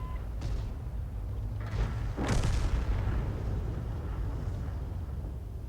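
In a tank video game, an artillery shell lands and explodes: a muffled boom with a short burst of debris rises over a constant low rumble of the engine, moderately loud and with no talk.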